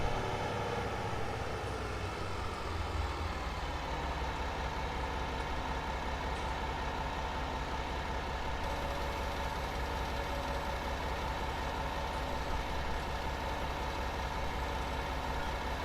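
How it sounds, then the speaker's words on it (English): A tractor engine in Farming Simulator 19, driven on the 4x4 Durango map, drones loudly and continuously with a steady low rumble and a faint shift in tone partway through. "I don't know if this audio is too loud on the tractor"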